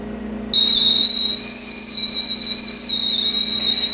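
A KitchenAid 1.5-quart tea kettle whistles with a steady, piercing high tone that starts suddenly and holds loud and continuous to the end, with a faint hum underneath and no talking.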